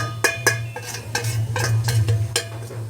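A spoon scrapes and clanks around a pan of browned onion frying with turmeric, masala and asafoetida, several distinct metallic strokes over a low steady hum and faint sizzle, close up with no talking.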